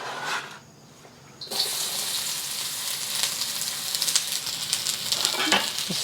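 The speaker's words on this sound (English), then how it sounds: "I'm adding 2 tablespoons of vegetable oil. Adding my shallots." Shallots hitting hot vegetable oil in a smoking pan for Thai basil chicken: a near-silent moment, then a loud sudden burst of sizzling that continues steadily, with faint scraping of the pan near the end.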